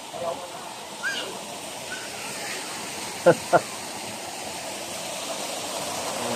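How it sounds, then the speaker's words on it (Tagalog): A small waterfall at Mabanag Spring Resort in Mahayag, Zamboanga del Sur, gives a steady, moderate hiss of running water, with a few faint voices and two short sharp knocks near the middle. "Maliit na falls dito."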